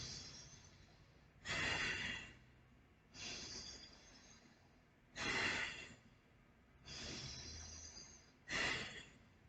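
Slow, deep breaths during a breathing exercise: five long airy inhales and exhales, evenly spaced and close, with quiet pauses between them and no talking.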